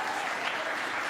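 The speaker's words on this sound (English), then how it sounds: "Hear the crowd reaction there." A live chess event crowd applauds after a tournament game between Hikaru Nakamura and Alireza Firouzja, a dense, steady wash of clapping hands that fills the whole moment at constant loudness with no voices.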